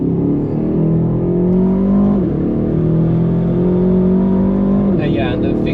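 Aston Martin DBX707 exhaust note while accelerating on the Nürburgring, a steady loud engine drone rising gradually under the cabin, with a gear change near the end and voices talking over it throughout.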